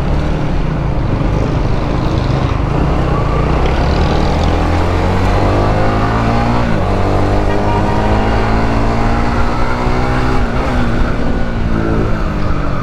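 A loud, steady Honda Winner X underbone motorcycle engine running close by, its pitch shifting up and down as it revs, with no talking.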